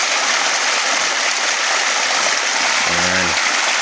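Water drawn from a river gushes steadily out of a hose in a continuous, close rushing hiss, with a short voiced sound near the end.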